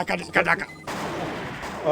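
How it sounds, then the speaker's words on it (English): Helicopters explode in the Armored Core mecha game with a few sharp, punchy bursts, then a sustained crackling roar of debris and fire at close, loud range. "Instant fucking explosion on the helicopters"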